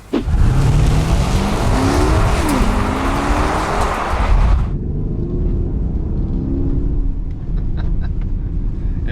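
A 2020 Mercedes GLS 580 with EQ Boost accelerates hard in sport mode, a loud broad roar with a rising engine note for about four and a half seconds before dropping to a quieter steady rumble.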